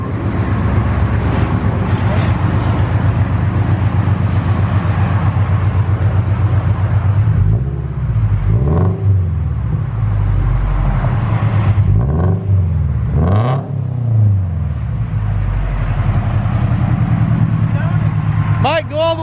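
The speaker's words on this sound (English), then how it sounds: "rev it up for us, see how different it is" A Scion FR-S with a modified exhaust rumbles loudly at idle, then revs several times, rising and falling in pitch, with voices talking nearby throughout.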